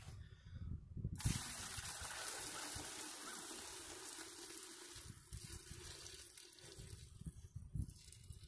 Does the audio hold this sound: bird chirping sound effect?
no